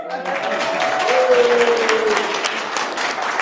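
An audience at a televised Tauranga electorate election debate claps: a sustained, fairly loud wash of applause from a room full of people, steady throughout, with a faint voice underneath near the start.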